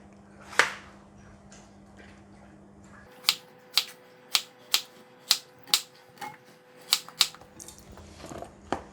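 A knife cutting a large winter melon into pieces on a board, about ten sharp, evenly spaced chops close by, loud and clear after a short quiet start.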